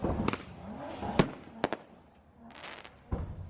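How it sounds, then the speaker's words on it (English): Fireworks at a UK car meet burst in several sharp, loud cracks spread irregularly over a few seconds, with a brief fizzing crackle between them and a low idling engine underneath. "Bro, that's fireworks."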